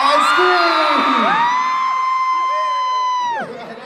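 A crowd at a Singapore fan meeting screams and cheers loudly, a sustained high-pitched roar of shrieks and whoops that swells and then fades out.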